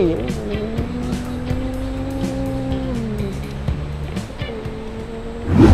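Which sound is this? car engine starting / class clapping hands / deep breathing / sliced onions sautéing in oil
car engine starting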